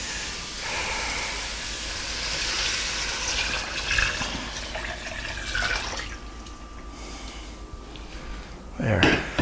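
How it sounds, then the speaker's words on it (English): Stock pours into a soup pot with beef and barley inside, a steady, soft liquid rush that goes on for several seconds and then fades before a brief clatter near the end. "Now we're ready to add our stock."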